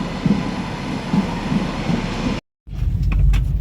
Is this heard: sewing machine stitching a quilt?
no